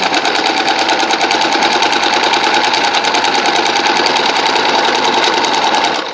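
Machine basting on fabric: a sewing machine runs loud, fast and steady, with an even mechanical clatter throughout and no pauses or voices.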